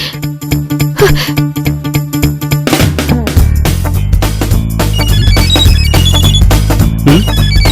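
A loud, repetitive electronic phone ringtone plays a melodic pattern, then shifts into a fuller, busier musical ringtone with a steady beat.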